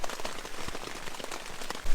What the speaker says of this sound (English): We are currently in the tent, and as you can hear, it's raining a lot.